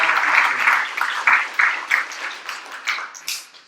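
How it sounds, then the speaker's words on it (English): An audience claps for performers at a school closing event, a fairly close round of applause that swells in bursts and gradually thins out toward the end. "So big round of applause for them."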